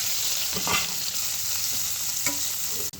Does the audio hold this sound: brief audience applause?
no